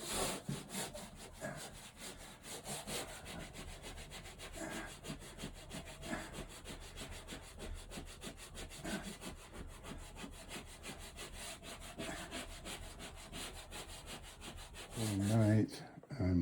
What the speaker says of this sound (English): I just put the final sanding on the texture around the wall, the drywall